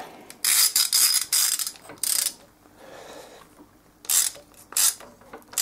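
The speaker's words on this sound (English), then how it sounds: "I'm just going to tighten that up with our 40mm socket." Ratchet wrench with a 40mm socket tightening a nut on a Chinese pit bike, heard as several bursts of rapid clicking with short pauses between strokes, close and fairly loud.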